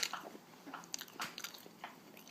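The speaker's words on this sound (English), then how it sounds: "I'm currently eating, so you just hear my chewing." Someone eats close to the mic, with soft wet crunches and bites in an irregular run, quiet and alone with no talk.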